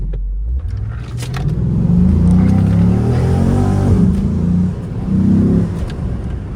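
A 2006 Chrysler 300 SRT8 with a NAG automatic transmission accelerates hard, its deep engine rumble climbing in a strong rev, easing briefly, then surging again, loud and close with no talk.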